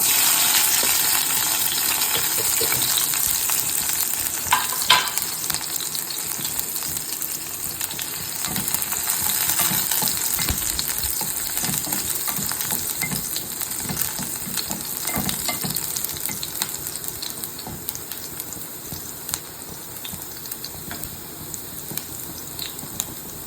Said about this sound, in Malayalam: കടുകൂട്ടി നമുക്ക് ഉള്ളി ഇട്ട് കൊടുക്കാം